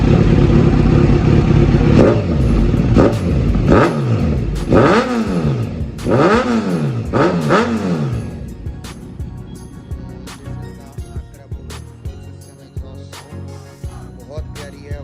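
Kawasaki sport motorcycle with 12,391 km on it, a 2017 model, revving hard in a series of sharp rising and falling throttle blips, loud and close, before settling into a rougher idle with clattery mechanical ticking.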